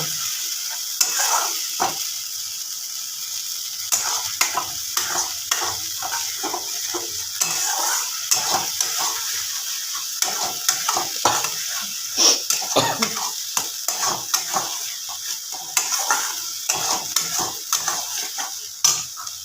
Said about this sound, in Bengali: এবারে যে মশলাটা পেস্ট করে রেখেছিলাম দিয়ে দেবো ভালো করে কষিয়ে নেব